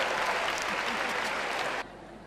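Audience applause at a live comedy show in Abidjan, a dense crowd clapping steadily and loudly for nearly two seconds before dropping off sharply to a quieter tail.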